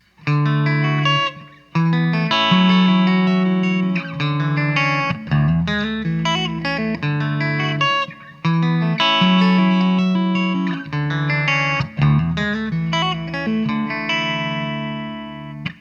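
A distorted electric guitar in DAEAC#E open tuning plays a repeating chordal riff with ringing open strings, steady and loud, briefly pausing between phrases.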